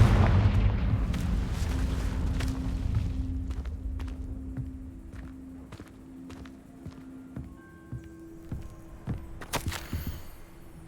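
A Confringo fire spell blasts in a wizard video game, a heavy, booming explosion up front that rumbles and slowly fades, followed by scattered sharp clicks and thuds.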